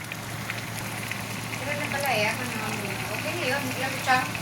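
A steady bubbling, sizzling wash of a pot of vegetables at a boil for dinengdeng, continuous and fairly close, with faint voices speaking over it at times.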